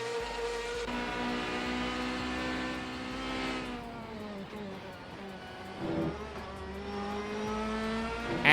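A Ferrari F-Series race car drives at Road Atlanta during a pre-season test: a steady engine note holds and shifts pitch, a sustained drone with one brief surge, continuous throughout.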